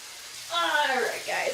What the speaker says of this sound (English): We're sizzling, boy.